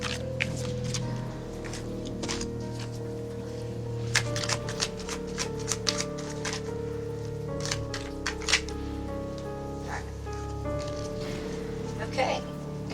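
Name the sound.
shuffling a deck of tarot cards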